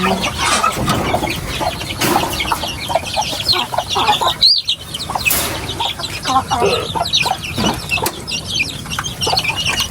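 Chickens cluck busily while feeding, several birds near and overlapping in irregular bursts, with a brief flutter of wings partway through.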